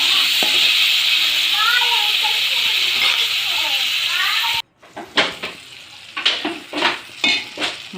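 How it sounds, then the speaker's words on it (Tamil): Tomatoes and drumsticks sautéing in a pan for a drumstick gravy, a steady close sizzle with stirring that cuts off abruptly, followed by spoon clinks and bursts of nearby talk. "நல்லா தக்காளி வதங்கட்டும்."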